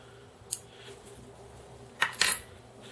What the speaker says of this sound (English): just take your trimmers and cut your tag end.